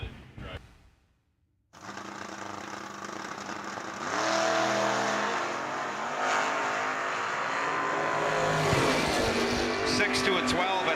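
A 1967 Chevrolet Chevelle SS drag race car fires up at a drag strip, its engine roaring loudly after a brief quiet gap and then climbing in pitch as it revs, while a race announcer talks over it.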